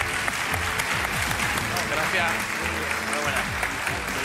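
A television game show studio audience breaks into loud, continuous applause and cheering, with a host's voice briefly heard over the clapping.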